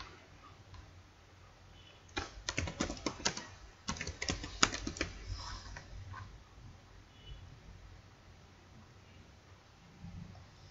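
Computer keyboard typing, a short burst of quick, light key clicks in the middle of an otherwise quiet stretch, fairly close but soft.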